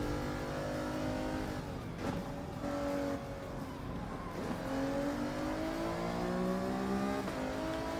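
A Porsche race car in Gran Turismo 7 at Fuji Speedway, engine revving and climbing through gears in a continuous loud drone with brief dips between shifts, another car close by.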